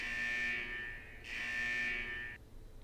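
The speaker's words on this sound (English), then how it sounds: "The buzzer signaling the test end finally rings." A buzzer from the video game Persona 4 Arena Ultimax sounds the end of a test, two long harsh electronic blasts with a brief gap between them, loud and close, then cutting off into quiet.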